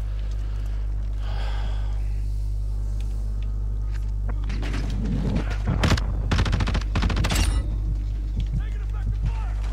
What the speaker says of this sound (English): Oh god, I'm getting shot at again.